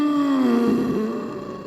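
Slow, heavy breathing comes from behind a door in the horror game Look Outside, a sustained, droning, moan-like exhale that fades gently toward the end, with no voices.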